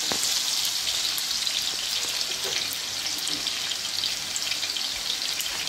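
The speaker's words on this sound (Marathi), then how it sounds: "बटाटा थोडा परतून घ्यायचा आहे आधी आणि मग नंतर आपण वांगे घालायचे." Potato pieces sautéing in oil for a brinjal-potato bhaji: a steady, close hissing sizzle with light crackles and occasional soft stirring knocks, no speech.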